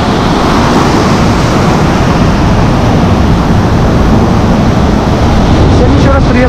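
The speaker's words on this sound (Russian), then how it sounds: "Огроменные волны, ну как огроменные, нормальные." Large sea waves roll and crash at a river mouth on the Black Sea coast at Lazarevskoye, Sochi, during stormy weather, loud and continuous with heavy wind buffeting the microphone.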